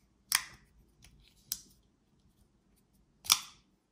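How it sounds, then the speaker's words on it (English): A black Gerber Zilch pocket knife gives three sharp, crisp clicks as its blade snaps open and shut, close and isolated, with uneven gaps and a faint background hum in between. "Great sound as well, as you can hear."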